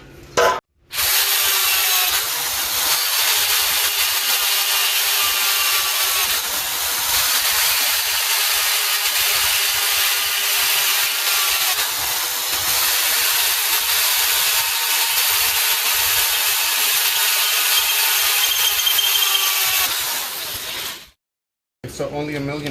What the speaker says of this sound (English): now what I'm gonna do is use the electrical drill just to punch it all the way through and finish up all the rest of the holes